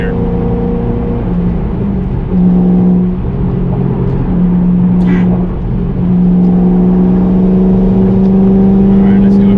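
A 2013 Shelby GT500 in fourth gear at about 3,500 rpm, giving a steady, droning engine note heard from inside the car that rises slightly in pitch as it pulls.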